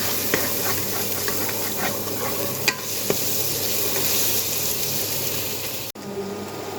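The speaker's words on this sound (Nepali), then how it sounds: "अब प्याजलाई पनि एकछिन फ्राई गरौँ।" Onions fry in a pan for a chicken gravy with a steady close sizzle and hiss, punctuated by a few faint clicks of stirring and a brief clatter near the end.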